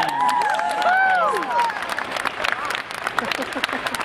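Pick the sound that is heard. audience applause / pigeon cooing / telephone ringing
audience applause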